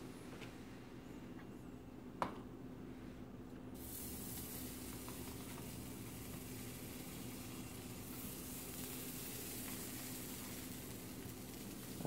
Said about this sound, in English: we're gonna take some butter, put it in the pan